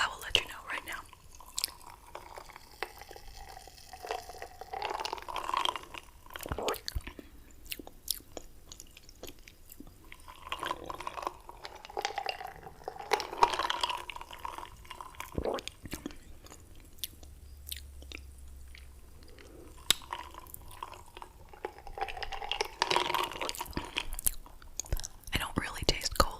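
Close, quiet gum chewing with soft wet smacks and clicks over a long stretch, mixed with whispering.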